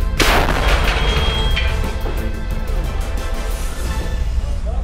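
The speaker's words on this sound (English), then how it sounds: "We literally use World War II cannons." A World War II cannon fired by ski patrollers for avalanche control at Mammoth Mountain, one loud, close, sharp blast followed by a long rumbling, echoing roll that slowly fades across the snowy slopes.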